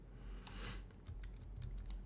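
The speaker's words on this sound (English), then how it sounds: "if you will click it and hit R on your keyboard, you will go to rotate mode" Computer keyboard keys pressed during 3D terrain work in World Creator 2025 software, a few quiet separate clicks and taps spread over about two seconds against a low background hum, no talking.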